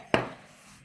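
A knife cuts through brioche ka3k dough on a board, a single close, sharp tap followed by a short fading rustle, alone without talk.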